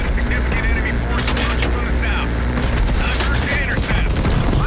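Heavy gunfire rattles in Call of Duty Black Ops Cold War: loud, continuous bursts of shots over a roaring aircraft-like drone, with voices calling out amid the battle.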